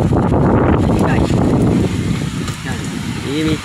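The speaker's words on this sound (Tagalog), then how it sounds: "Malakas po ng hangin dito guys." Strong wind blows hard by the sea, a steady loud roar buffeting the microphone throughout, with faint voices and background sounds underneath.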